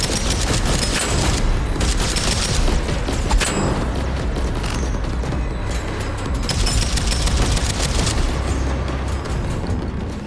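Weapon fire and headshots from the shooter game Deadzone: Rogue: dense, rapid bursts of gunfire crackle almost without pause, loud and close, with booming impacts layered in and no talking.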